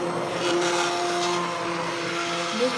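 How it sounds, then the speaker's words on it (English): A hand blender whirs steadily through broccoli soup with nutritional yeast, a close, continuous motor drone that shifts slightly in pitch as it churns, with no talking. "I'm using the hand blender to blend everything."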